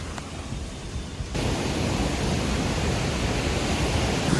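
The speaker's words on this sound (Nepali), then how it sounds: "झरनाको आवाज सुन्न सक्नुहुन्छ कत्रो आइरहेछ।" The Sursing waterfall in Helambu, Nepal roars as a dense, continuous rushing noise that suddenly swells louder partway through and then holds steady.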